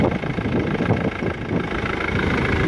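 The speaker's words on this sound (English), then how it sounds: "engine, timing chain engine," A Jaguar X-Type with a 2.2 diesel, timing-chain engine idles nearby, giving a steady, loud, low rumbling chatter with some wind buffeting the microphone.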